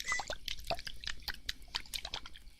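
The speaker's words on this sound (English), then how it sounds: "Yeah, I even got the water sound effects." Close ASMR water sound effects: a quick run of small, crisp drips and wet plops, irregular and intimate, with no talking.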